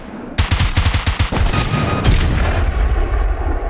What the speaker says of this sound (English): Meet the KLTR gun, my love-hate relationship in the world of SMGs.